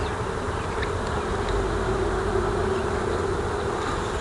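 A steady, dense insect buzz, like many bees humming close by, continuous and even throughout.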